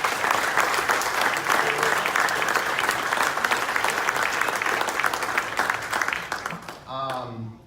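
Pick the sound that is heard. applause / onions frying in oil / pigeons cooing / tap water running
applause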